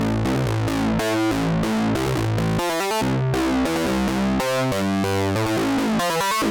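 A Eurorack Rings module plays a modal-mode sequence through distortion and overdrive, producing loud, continuous gritty pitched tones that shift in choppy rhythmic steps with a dense, saturated buzz.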